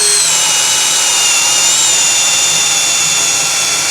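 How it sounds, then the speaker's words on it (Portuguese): A Hanabi impact drill bores with a 5/8 spade bit at speed 2, a loud continuous whine that holds steady from start to finish. "Vamos para uma broca chata de 5/8. Ainda na velocidade 2."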